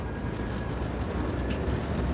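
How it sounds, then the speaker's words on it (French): A 1960s diesel locomotive's MGO engine runs with a continuous, heavy low rumble and a steady drone, close and unbroken throughout. "Ah, ça, c'est le bruit du moteur MGO."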